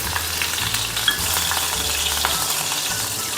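Green chillies and cumin seeds frying in hot oil in a pan for fasting dosa, a steady close sizzle with small crackles and light stirring throughout.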